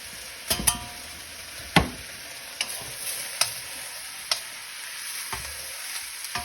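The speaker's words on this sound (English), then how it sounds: "Everything's kind of frying fast. The onions are browning, and this is melting down." Udon noodles, chicken, bok choy and onions sizzle loudly in a hot pan while a utensil scrapes and clatters against it in irregular sharp strikes over a steady frying hiss.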